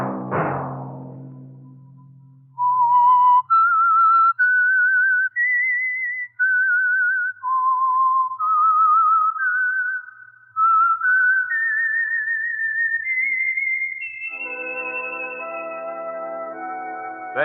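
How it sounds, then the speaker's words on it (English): A clear, melodic whistled tune of sustained rising and falling notes, the Signal Oil radio program signature, preceded by a brief low rumble and ending on a held musical chord. "Let that whistle be your signal for the Signal Oil program"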